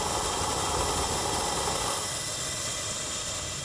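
A steady, broad hiss of steam escaping as a 1910 Stanley Steamer delivery van's boiler is purged runs throughout, loud and continuous with a low rumbling undertone, no voices.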